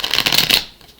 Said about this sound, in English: to shuffle decks 7 times